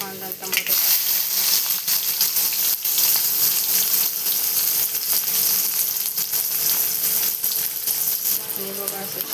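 Onion and tomato with garlic frying in a pan, a loud, dense sizzle with clinking stirring and scraping sounds throughout, close up.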